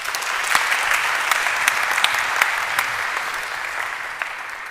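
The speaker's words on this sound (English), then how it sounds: "With your warm applause, Faraz Janan Khattak." Conference audience at an opening ceremony applauding to welcome the conference chairman, steady dense clapping with sharp individual claps throughout.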